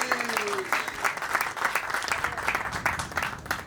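Audience applause at a book launch at the Lisbon Book Fair, steady dense clapping from a crowd throughout, close and even, with a faint voice briefly under it.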